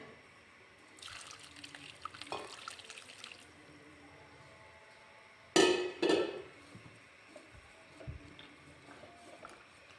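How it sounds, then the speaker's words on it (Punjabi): Water trickles quietly, then two sharp splashes as a cloth is plunged and sloshed in water, followed by soft dripping. "ਇਹਨੂੰ ਆਪਾਂ ਚੰਗੀ ਤਰ੍ਹਾਂ ਨਾਲ ਪਹਿਲਾਂ ਪਾਣੀ ਚ ਡਬੋ ਦਿੰਨੇ ਆ"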